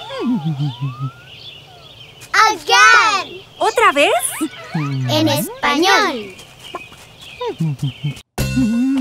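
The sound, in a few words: hen clucking in a Spanish children's cartoon song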